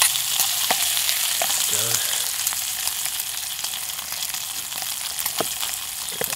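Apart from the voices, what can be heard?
bacon frying in a pan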